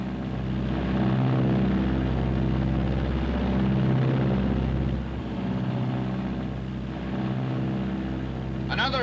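A Martin B-26 bomber in flight, its propeller engines giving off a loud, steady droning roar that holds for the full stretch with only slight swells, while a voice speaks over it.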